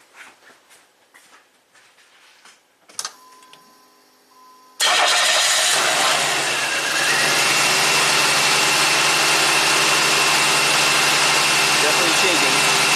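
A 1990 Buick Regal V6 with a severe low-power fault cranks and catches after a few seconds of quiet clicks and handling noises, then settles into a loud, steady, close-up running drone.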